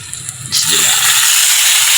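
Fish goes into hot oil to fry: after a quiet half second, a loud, close sizzle bursts in and then holds as a steady, bright hiss.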